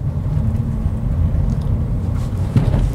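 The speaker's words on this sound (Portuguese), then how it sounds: "Vamos lá, primeira lombada 30 por hora." Nissan Kicks Exclusive or Honda WR-V EXL crossing a speed bump at 30 km/h, heard as a steady low road and engine rumble from inside the cabin with a brief soft thump near the end.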